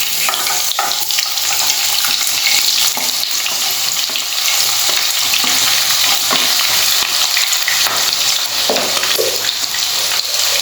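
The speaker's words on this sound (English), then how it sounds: "Now we will add our sliced onions." Sliced onions dropped into a pan of three tablespoons of hot oil for a Goan chicken xacuti, a loud, dense, continuous sizzle close by with faint stirring scrapes and no talking.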